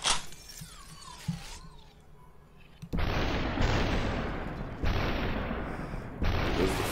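Gunfire in the video game SUPERHOT: a few sharp shattering cracks early, then several loud, abrupt bursts of noisy blasts that cut in and out, with no talking.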